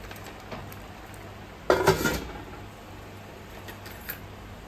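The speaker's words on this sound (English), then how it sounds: "let me cover this pot." A lid is set onto a cooking pot in a quiet kitchen, giving one brief metallic clatter and rattle before near silence, with a faint small knock just after.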